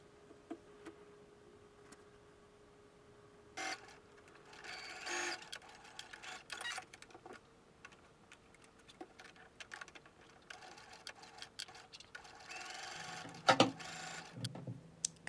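Sewing machine stitching a small lined mini bag in a home sewing room, with short bursts of rapid mechanical whirring separated by quiet pauses and small handling clicks, close and without speech.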